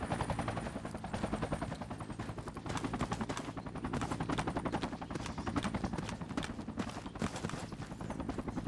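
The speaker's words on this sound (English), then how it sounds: "Helicopter coming in." Helicopter arriving in the military game Project Reality, a loud steady rapid rotor thump that fills the whole clip, with no talk over it.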